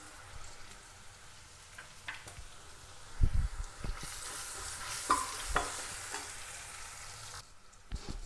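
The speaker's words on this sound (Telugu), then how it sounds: "ఇట్లా బాగా వేగేటట్టు వేయించుకోవాలి" Onions, green chillies and ginger-garlic paste fry quietly in a pan with a soft sizzle, interrupted by louder spatula scrapes and knocks as the mixture is stirred.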